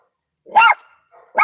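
A dog barks at other neighborhood dogs, one sharp close bark followed by a faint second bark just starting at the end, with silence around them.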